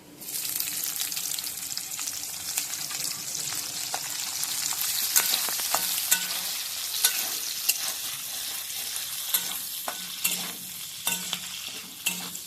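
Capsicum and onion petals stir-fry in a pan for chilli chicken with a loud, continuous sizzle, broken by frequent sharp scrapes and clicks of a spatula stirring close by.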